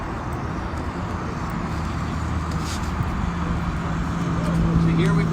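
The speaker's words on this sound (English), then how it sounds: "Here we've got the generator" An Onan 3.6 propane generator on a 2020 Leisure Unity 24RL RV runs with a steady, loud droning rumble and hum that swells slightly toward the end, with a voice talking nearby.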